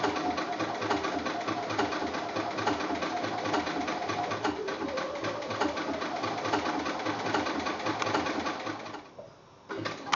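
A sewing machine blanket-stitches around an applique on a quilt block, running steadily and close with a fast mechanical rhythm before briefly stopping near the end.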